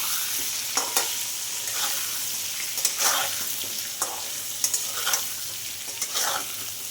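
Potatoes seasoned with turmeric and salt fry in a pan, with a steady sizzle broken by repeated scraping stirs roughly every second; close and alone, no voices.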